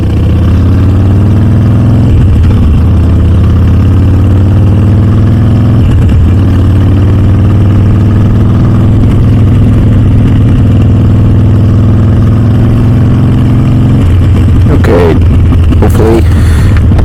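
Harley-Davidson Iron 883 motorcycle, bored out to 1250, runs with a loud, steady low engine drone, changing pitch around 14 seconds, with a few brief louder bursts near the end.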